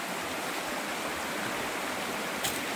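Clear mountain stream runs over rocks in a shallow brook at Bangkal, Abucay, a steady broadband rush of flowing water, close and continuous, with a brief splash near the end.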